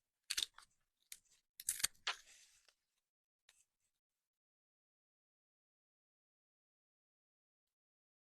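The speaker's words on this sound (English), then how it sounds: "So just take some old scissors, and you can cut out your own heart." Old scissors snip through thin Dollar Tree craft wood in a few crisp, close cuts and crunches clustered early on, followed by a long stretch of quiet.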